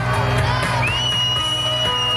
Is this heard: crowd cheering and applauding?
yes